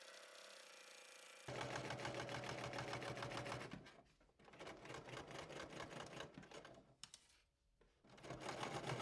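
A sewing machine stitches black fabric with black thread in steady, fast runs of stitching, starting after a short quiet moment and stopping briefly twice before resuming, close and clear.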